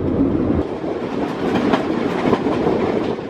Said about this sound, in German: Nach der Fahrt durch Diepoldiswalde und Ulberndorf erreicht der Zug den Bahnhof Oberkarsdorf.